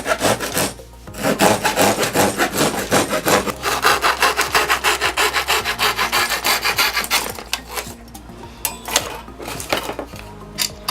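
A saw cuts through wood held in a saw guide, giving fast, rhythmic back-and-forth rasping strokes, close and loud, that pause briefly and then start again.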